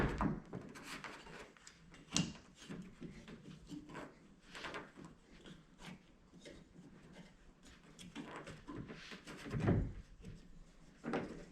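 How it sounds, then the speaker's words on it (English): Rubber and plastic creak, knock and rustle as a windshield on a Yamaha Wolverine side-by-side is peeled open. The sounds are close and irregular, with a few sharper thumps and scrapes and no talking. "basically you're just gonna peel the windshield open there for a second."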